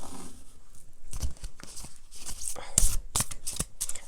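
Oracle cards are shuffled and drawn close up, giving repeated crisp riffling and slapping bursts in an irregular rhythm, with faint soft voice sounds in places.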